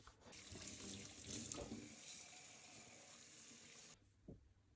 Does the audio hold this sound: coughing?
no